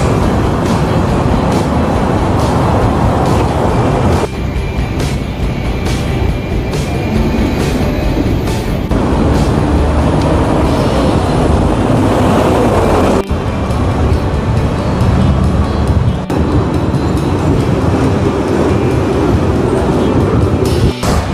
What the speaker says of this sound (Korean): 일단은 노스포인트에 2층 트램을 탔고요.